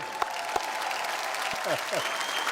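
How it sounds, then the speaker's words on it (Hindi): Studio audience of a Hindi TV comedy talk show applauding loudly and steadily throughout, a dense wash of clapping with a few sharp claps and faint voices in the background. "शक्ति जी के लिए जोरदार तालियां।"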